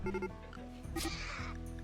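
Goat bleats from the video game Rimworld: short, nasal cries repeat over steady background game audio.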